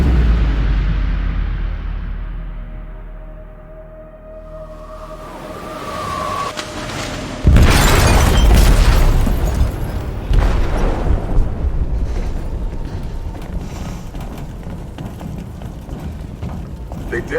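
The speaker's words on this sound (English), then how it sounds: "They detonated an explosive in the hold." An explosive detonates in a ship's hold in Detroit: Become Human: a sudden heavy boom after a swelling rumble, followed by loud crashing debris and sustained roaring turbulence.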